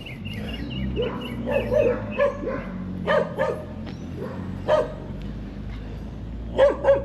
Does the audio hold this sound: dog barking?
yes